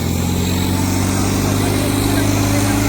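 A tractor engine roars at a tractor pulling contest, a steady loud drone running without a break.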